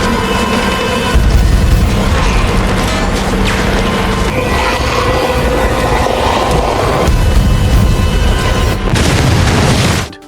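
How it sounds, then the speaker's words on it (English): Bombs blasting amid a zombie battle scene from The Walking Dead, a loud, dense rumble with a sharp burst near one second and another near nine seconds, continuous and heavy throughout with no speech. "Daryl blasts the last 2 bombs and takes off down the side road in style,"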